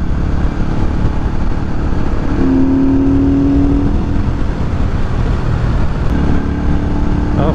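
A Benda 500 Napoléon motorcycle roars loudly and continuously under hard acceleration, its engine note holding close and steady with a brief rising whine partway through, no talking over it.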